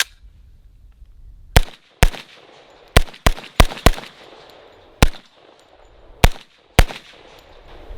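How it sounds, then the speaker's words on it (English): A CMMG MK10 Banshee 10mm PDW fired unsuppressed with an H3 buffer: nine loud, sharp shots in an irregular rhythm over several seconds, close by with ringing decay and a quiet background between shots. "see how this feels with the H3 because I've not got to shoot it unsuppressed yet"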